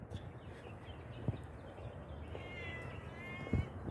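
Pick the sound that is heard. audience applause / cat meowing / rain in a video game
cat meowing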